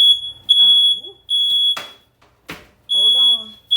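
A kitchen smoke alarm shrills in loud, piercing beeps of about a second each with short gaps, while a person talks between and over the beeps.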